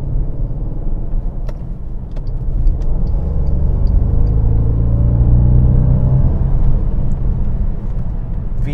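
A 2017 Bentley Continental GT's engine surges smoothly as the car pulls away, a steady deep rumble that builds gradually and holds loud and close from inside the cabin, with no one speaking.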